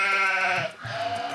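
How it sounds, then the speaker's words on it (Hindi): A goat bleats twice in quick succession, loud and close, with wavering, nasal cries and a short break between them. "बकरी है, बकरी आई है"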